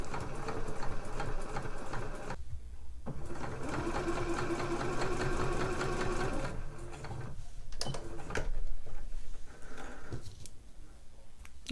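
A sewing machine runs a straight stitch along a seam in fabric for slipper boots, a rapid mechanical chatter in several bursts separated by short pauses, close and fairly soft.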